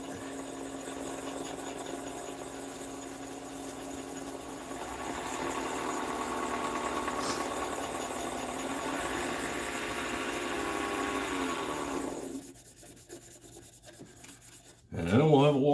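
A walnut pen spins on a wood lathe while sandpaper rubs against it, making a steady raspy hiss over the motor hum that stops abruptly near the end, followed by a short clatter.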